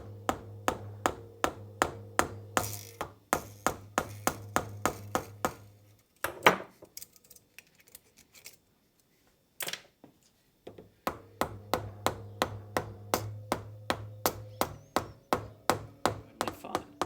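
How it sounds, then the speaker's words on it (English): Hammer blows drive a bushing through a loosened hose clamp on a Land Rover steering relay, landing as steady, close metallic strikes in quick runs with a pause midway and a few isolated knocks. "I loosened the hose clamp slightly so I could drive the bushing through it"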